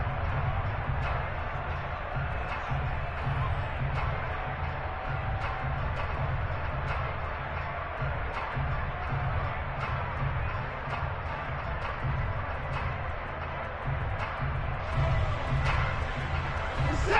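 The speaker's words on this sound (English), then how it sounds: "the crowd getting into it as we come up on a big 3rd down." Stadium crowd noise in an American football video game, a steady, dense roar of cheering that holds throughout at an even, moderate level.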